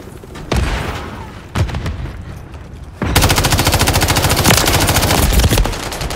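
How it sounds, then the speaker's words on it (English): Gunfire in the Call of Duty: Modern Warfare 3 video game: a few loud separate shots with echoing tails, then a sustained rapid burst of automatic fire, close and dominant. "We're taking fire."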